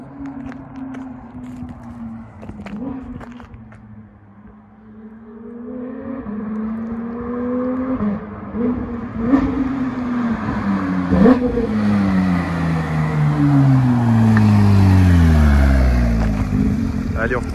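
A Porsche 991.2 GT3 RS, a rear-wheel-drive car, revs hard nearby, its engine note climbing and falling in repeated sweeps before rising in a long loud pull, with a voice talking briefly over it.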